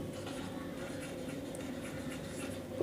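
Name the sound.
writing the given triangle ABC on a board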